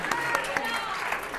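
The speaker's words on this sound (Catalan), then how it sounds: "amb aquest aplaudiment que et donem ara" Studio audience applause on a Catalan spelling quiz show, a brief steady patter of clapping with a voice talking over it.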